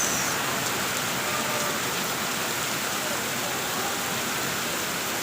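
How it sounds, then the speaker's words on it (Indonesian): Rain falls in a steady, dense hiss on a beach in western Bali. The sound is broad and even throughout and fairly loud, with no clear voices above it. "Suasana hujan di pantai"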